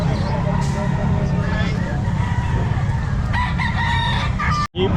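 Sweater-breed gamefowl rooster crowing amid other chickens clucking at a busy outdoor pet market in Calumpit, with steady crowd noise and people talking throughout.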